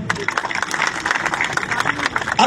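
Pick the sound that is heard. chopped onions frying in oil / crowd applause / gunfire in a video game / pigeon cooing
crowd applause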